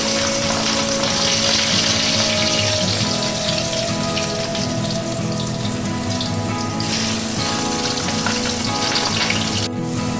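Chopped garlic frying in hot mustard oil in a wok, a dense, steady, loud sizzle with a rain-like hiss that holds close and unbroken throughout.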